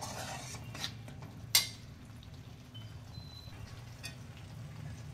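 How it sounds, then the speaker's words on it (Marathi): Prawn biryani masala sautés in oil in a pan with a soft, low sizzle, broken by one sharp clink of a utensil against the pot and a few faint scrapes of stirring. "आता हे चांगलं परतून घ्यायचं आहे तेल सुटेपर्यंत"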